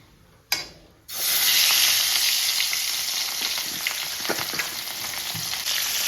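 Fish hits hot oil in a pan with a sharp burst, then a loud, steady sizzle and crackle continues close up, with occasional pops and stirring noises and no talking.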